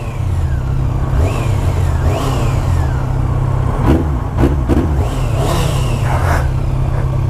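A Yamaha R1 motorcycle, restricted to 48 hp, runs loud and close with a steady low engine drone. Repeated rising and falling revs sweep through it, and several sharper bursts come in the middle.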